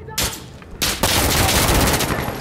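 Hip-fired gunshots in the shooter game Insurgency Sandstorm, a loud, close rapid burst of shots that rolls straight into sustained automatic fire with a gritty echoing tail.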